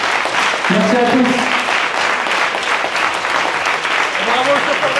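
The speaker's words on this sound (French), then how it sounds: "Pour encore une fois vous applaudir et applaudir notre grand chauffeur." Sustained, even clapping from a crowd at an eloquence competition final, with brief voices rising over the applause at moments.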